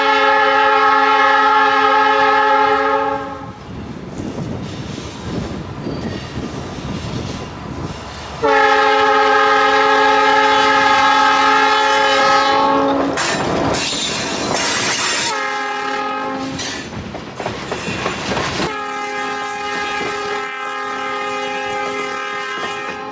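A Milwaukee Road GP40 diesel locomotive rumbles past with clattering wheels, sounding several long, loud horn blasts separated by stretches of rolling engine and track noise, on the Lake Line Railway near Netley.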